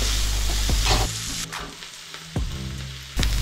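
Onions sizzling in hot oil on a high flame for rava upma, a loud crackling fry broken by a few sharp scrapes and stirs of a spoon in the pan, close and without talk.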